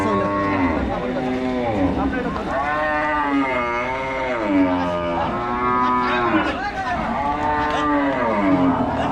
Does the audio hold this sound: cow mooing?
yes